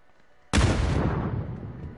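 A grenade explodes in a video game, a single sudden loud boom that cuts in sharply and then rumbles down in a long decaying roar.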